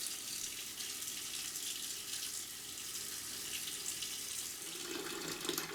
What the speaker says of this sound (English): And adding some water.